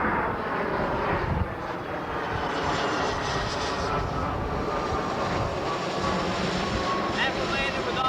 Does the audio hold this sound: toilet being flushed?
no